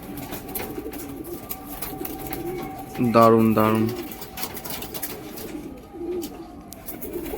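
A pigeon coos once in a loud, clear, rolling call near the middle, among pigeons in a home loft, with a voice talking before and after.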